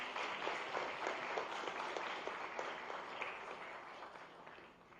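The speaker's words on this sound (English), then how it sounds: "Please give them a round of applause." Conference attendees at an Institute of Town Planners, India (West Zone) event clap together in a sustained round of applause, with some individual claps standing out from the crowd before it gradually fades toward the end.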